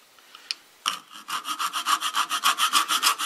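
A small hacksaw cuts through wood in quick, steady back-and-forth strokes, close and loud, after a few light taps at the start.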